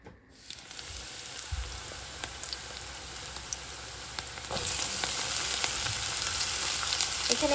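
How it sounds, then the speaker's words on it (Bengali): Mixed vegetables including cabbage, purple cabbage, long beans, potato and carrot frying in a pan in a home kitchen in Korea, a steady close sizzle that grows louder partway through, with light stirring clicks. "এখানে রান্না করতে হচ্ছে মিক্সড ভেজিটেবল।"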